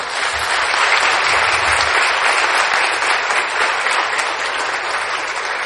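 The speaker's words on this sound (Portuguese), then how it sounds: "Vamos lá, mais uma salva de palmas." Continuous, even audience applause at a metrology symposium on nanotechnology, a full dense clapping from the room that stays loud and steady throughout.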